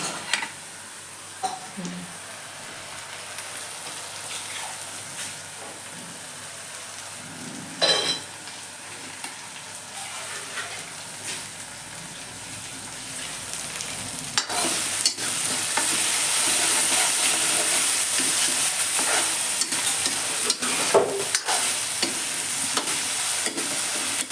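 Chopped tomatoes for sabzi fry in a pan while being stirred, giving intermittent scraping and clinking utensil sounds over a frying hiss that grows louder and more constant in the second half.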